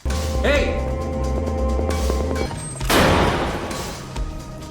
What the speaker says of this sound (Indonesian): setelah terpaksa menembak 2 tentara